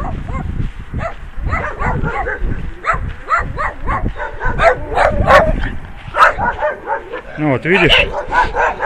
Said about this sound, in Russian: только удалился на 50 метров от этих собак, и они перестали лаять